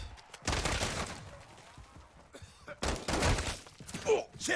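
Gunfire in Modern Warfare 3 Zombies, with bursts of automatic shots broken by short pauses, plus shattering impacts and a groan, under a man's speech.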